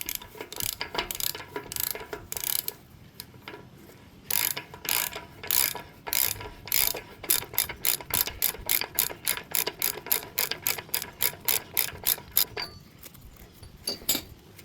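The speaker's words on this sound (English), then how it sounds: "it's gonna need the wrench this time" A ratchet wrench clicks rapidly and evenly while loosening a hand-tight nut on a Dana 44 front axle during disassembly, in bursts of repeated close metallic ratcheting with brief pauses between strokes.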